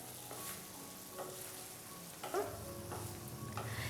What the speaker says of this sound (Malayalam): ഈ ഒരു രീതിക്ക് ഒരു 2 മിനിറ്റോളം ഞാൻ ഇതൊന്ന് വഴറ്റി കൊടുത്തിട്ടുണ്ട്